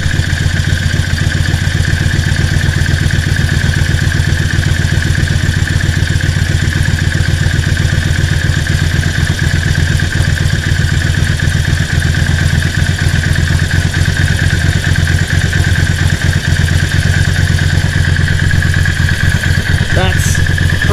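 Motorcycle engine idling steadily while its carburettors are synced and idle speed is set, a loud, close, even mechanical drone with a constant whine throughout and brief talk near the end.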